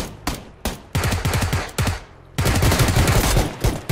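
Rapid automatic gunfire from the video game PUBG Lite, loud bursts with short gaps, then a sustained barrage near the end, no talking.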